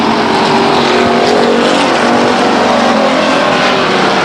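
Stock cars racing at Stockton 99 Speedway in 1999, a loud, constant roar of several engines at full throttle filling the whole stretch, with no break or pause.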